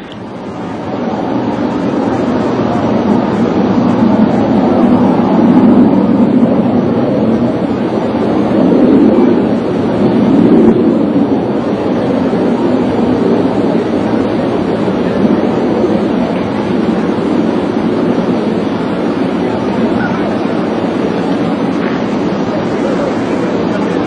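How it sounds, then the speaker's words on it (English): Boeing 747 shuttle carrier aircraft flying with Space Shuttle Endeavour mounted piggyback on its final ferry flight, arriving at Ellington Field in Houston; a steady, loud jet engine roar holds throughout with little change. "Space Shuttle Endeavour is making its final flight piggyback atop the shuttle carrier aircraft 747"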